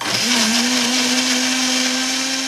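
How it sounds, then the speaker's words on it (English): Electric blender homogenising donor stool with saline for fecal bacteriotherapy, a loud steady motor whine running continuously after a brief start-up, with no voices. "With some saline homogenised in a blender, filtered through a simple kitchen-type filter"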